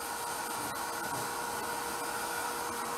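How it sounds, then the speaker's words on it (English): A hair dryer blows steadily on the glitter coat of a Faberge-style decorative egg, giving a continuous close whooshing hiss with no speech. "So I'm just going to dry this off a little bit more"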